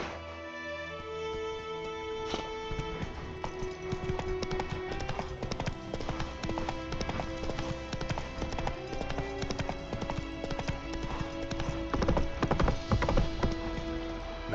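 Roach, a horse in The Witcher 3, makes continuous rhythmic clip-clop hoofbeats that pick up near the end, layered under game ambience and music with no voices over them.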